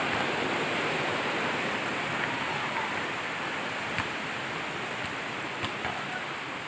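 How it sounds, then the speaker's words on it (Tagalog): Strong, steady rush of floodwater in a flooded neighborhood of Santo Cristo, Bulacan, a broad continuous roar with a few faint knocks, recorded while walking nearby. "lakas na ng tubig guys"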